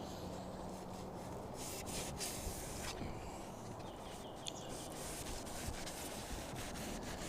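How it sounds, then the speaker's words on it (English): Hand sanding of a car's clearcoat with 1000 grit sandpaper, a steady close rasping rub that keeps going with slight strokes, heard alone without speech. "Gotta be careful not to sand stuff I don't want sanded."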